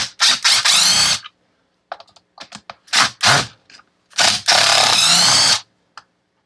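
An impact driver works fasteners loose on an old Stihl 021 chainsaw, firing in several loud, close hammering bursts separated by short pauses and light clicks.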